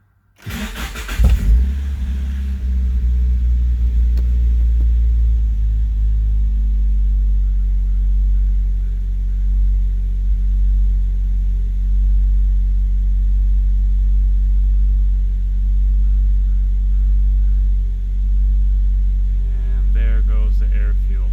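A Nissan 240SX S13's SR20DET engine with a rich idle cranks on a cold start and catches, then settles into a steady, loud low idle that hums on evenly with no talking.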